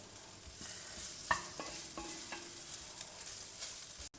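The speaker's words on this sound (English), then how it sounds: "toss them over so that they become nice and crisp and evenly coated with the masala" Raw banana slices fry with masala in a cast iron pan, a steady close sizzle broken by a few scraping stirs and a final sharp clink.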